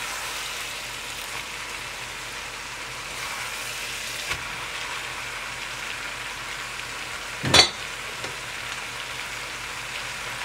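Tibetan beef chowmein stir-frying in a pan, a steady loud sizzle throughout with a brief clatter of utensil on the pan near the end.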